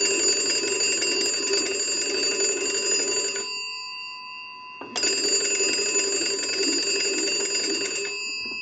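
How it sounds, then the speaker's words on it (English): The bells of a Kellogg wood wall crank telephone ring loud and close as its magneto is cranked, in two long shrill bursts of about three seconds each with a short pause between them. "allows you to walk up to this telephone and crank the magneto and ring the bells"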